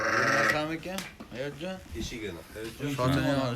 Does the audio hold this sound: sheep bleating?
yes